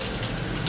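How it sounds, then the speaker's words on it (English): Hot shower water pours steadily onto a surface in a short, close, loud burst of spray with no voices over it. "This is my first shower in the Southern Hemisphere, and my first hot shower in I don't even know how long, months."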